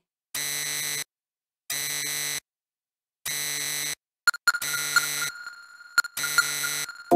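An electronic COMP device in Soul Hackers 2 beeping insistently: a steady pure tone repeating in evenly spaced long beeps, then turning into a faster, choppier run of chirps over a held tone, loud and close with no voices.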